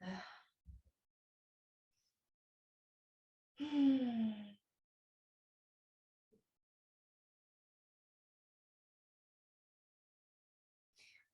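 Breathing during a hatha yoga class: a few sparse, sighing exhalations, one fuller breath in the middle, separated by long stretches of near silence, close and fairly quiet.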